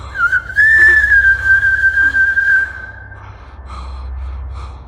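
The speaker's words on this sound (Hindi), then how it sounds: "सीटी की आवाज।" Eerie whistling near an open cabin in the woods: a single long, wavering tone, close and loud, that holds for a few seconds before giving way to quiet low rumble and faint breaths.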